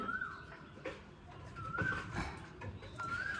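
Thin, squeaky cooing calls from five-day-old pigeon chicks being hand-fed repeat every second or so, close by, over a low rumbling background.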